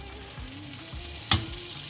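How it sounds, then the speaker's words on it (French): A Hanukkah doughnut dropped into a bath of hot frying oil sizzles steadily, with a sharp crackling burst near the end; no voices. "Je le mets dans le bain de friture."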